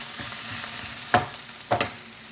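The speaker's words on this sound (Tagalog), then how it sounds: "Dito natin igigisa yung heart" Hearts sautéing in a pan, a soft steady sizzle broken by two sharp stirring scrapes, close by.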